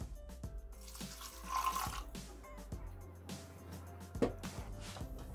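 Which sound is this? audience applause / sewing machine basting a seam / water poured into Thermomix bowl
water poured into Thermomix bowl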